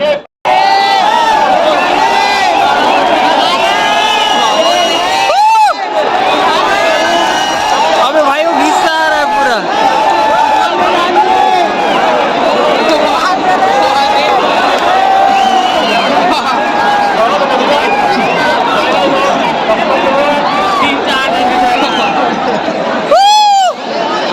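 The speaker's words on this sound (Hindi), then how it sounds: "देखो कितना हल्ला हुआ, देखो संगवारी पूरा ग्राउंड भर" Dense crowd hubbub fills a packed bullock race ground during a Chhattisgarhi Pola festival, steady loud babble of many voices with scattered shouts and whoops, continuous and close throughout.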